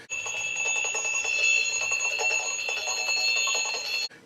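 Bright bells ringing continuously in a rapid metallic trill, loud and close, before stopping abruptly.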